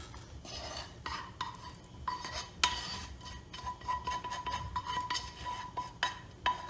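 Light clinks and clatters of a metal cooking pot and utensils being handled while making baked chicken pasta with béchamel, intermittent and close by, with a faint steady background hum.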